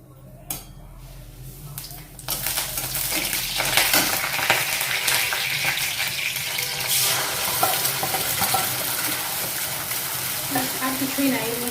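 Taro paste frying in hot oil with black mustard seeds, a quiet start giving way to a loud, continuous crackling sizzle with stirring scrapes, heard close and steady throughout.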